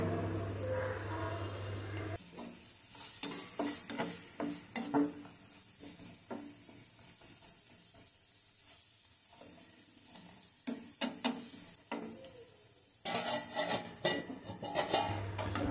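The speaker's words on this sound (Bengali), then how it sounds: "গাজরও একটু ভাজা ভাজা হয়ে এলে এর মধ্যে দিয়ে দেবো পেঁয়াজ" Carrot, potato and onion stir-fried in a nonstick wok, with repeated scraping and stirring strokes over a low sizzle, coming in uneven bursts close by.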